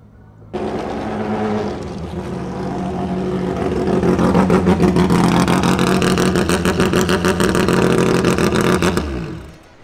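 A Mazda prototype race car's rotary engine starts with a sudden loud roar, then climbs into a harsh, buzzing, rapidly pulsing drone that holds strong before cutting off abruptly.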